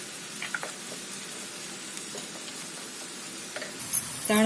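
Tomatoes frying in a pan, a faint steady sizzle with soft scattered pops and a couple of louder clinks near the end.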